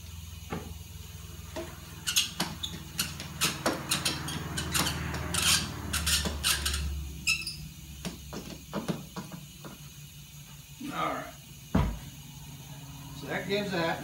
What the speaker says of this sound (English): We'll just put a little clamp on the end here just to give it a foot.